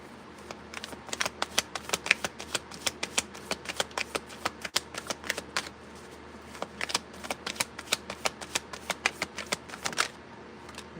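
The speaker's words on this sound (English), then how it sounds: "One more shuffle." Tarot cards shuffled by hand, rapid bursts of crisp riffling clicks in repeated runs with short pauses between, close and fairly quiet, no talking.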